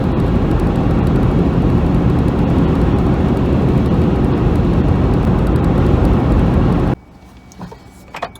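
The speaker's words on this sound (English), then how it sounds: "I'm gonna get on the road and get a few miles behind me." Truck driving on the road on a winter camping trip, a loud steady engine and road roar from inside the cab for about seven seconds, then cutting abruptly to a quiet interior with faint knocks.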